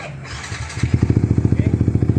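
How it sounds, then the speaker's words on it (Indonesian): A Yamaha R15 motorcycle, in neutral, is started by a remote starter: after a short quiet lead-in the engine catches and settles into a steady, even idle with regular pulsing firing beats, close and fairly loud. "Ternyata bisa ya, motornya sudah bunyi dan dalam posisi netral."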